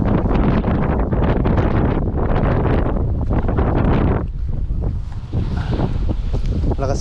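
Heavy wind buffets the microphone in a steady, loud rush, with faint water and surf sounds beneath it outdoors while net fishing at the shore.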